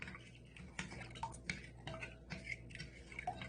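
Sugar, yeast and melted butter stirred together in a mixing bowl for cinnamon roll dough, giving soft repeated scraping and light clinking of a utensil against the bowl at a steady, close rhythm.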